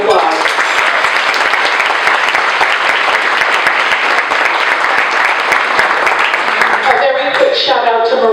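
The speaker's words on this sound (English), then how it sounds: "How about a round of applause?" A room full of people at a legislative breakfast for a children's advocacy center breaks into sustained, dense applause, clapping steadily for about seven seconds before it thins out and a few voices come through at the end.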